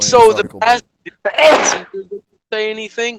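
A single sharp sneeze bursts out between stretches of conversation, close and loud, with people talking before and after it.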